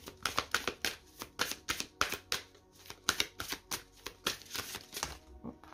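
Tarot cards being shuffled and drawn, with a steady run of crisp, close riffling snaps that come in quick bursts, and no voice over them.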